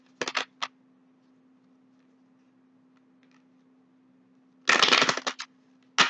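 A deck of cards being shuffled, brief crisp riffling bursts near the start and a longer flurry near the end, close and clear against near silence.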